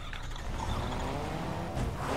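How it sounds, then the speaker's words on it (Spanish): A car drives in a video game, a steady engine drone with a slight rise near the end, heard alone without talk. "Me voy con mi coche, Nego"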